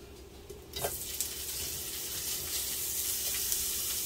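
Canned corn sizzles in a hot pan for shrimp fried rice, a steady, dense frying hiss that rises after a brief start and holds at an even level, close and unaccompanied by talk.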